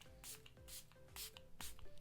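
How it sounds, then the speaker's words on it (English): Setting spray misted onto a face in short bursts, four broad airy hisses spaced about half a second apart, close and fairly soft, with faint low background noise. "the final product in this box is, of course, the setting spray"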